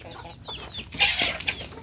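Chickens cluck and squawk nearby in a short burst, with faint farmyard background noise and no talking.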